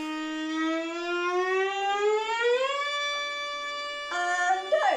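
A fiddle holds a single bowed note that glides steadily upward in pitch, rich in overtones, played alone and fairly close for several seconds before a brief scrape at the end.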